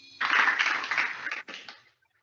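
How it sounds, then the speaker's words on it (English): Audience applause for student performers at a school secondary-segment finale, a dense burst of clapping that holds steady, dips briefly, then fades away into silence. "Let's give a big round of applause to all of them."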